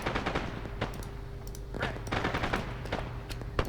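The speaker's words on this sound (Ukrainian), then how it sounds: "вони по мені стріляють" Rapid bursts of gunfire in the video game Arma 3 crackle irregularly, some shots in quick automatic strings, over a steady electronic hum.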